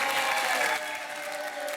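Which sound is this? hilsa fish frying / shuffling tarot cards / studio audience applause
studio audience applause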